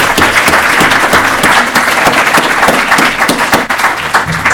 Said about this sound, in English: why don't we give another round of applause to our speakers,